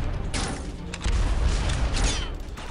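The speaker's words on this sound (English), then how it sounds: "that man just threw like 5 grenades in a very short time frame" Several grenade explosions burst in quick succession in the video game Red Faction 2, loud booming blasts with crackling debris layered over continuous gunfire and game noise.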